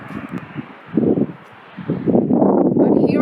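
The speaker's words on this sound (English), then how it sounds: "I am at the rooftop and it's very windy and super chilly now." Strong wind buffets a rooftop during a snowstorm in Vancouver, as low, rumbling gusts swell and fade across the microphone and build to a sustained roar near the end.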